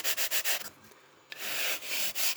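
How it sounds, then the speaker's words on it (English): Sandpaper rubbed over the balsa-type wood of a model plane's horizontal stabilizer, rounding its front edge: rapid close back-and-forth rasping strokes, a brief pause, then a longer steady run of sanding, loud and alone. "You want to sand a nice round edge on the front so that when it moves"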